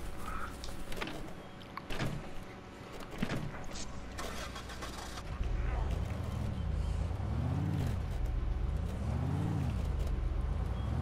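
Car in the zombie video game Dead Island is entered, then its engine starts at about five seconds and revs up and down loudly in rising and falling swells while driving, after earlier thuds and clatter.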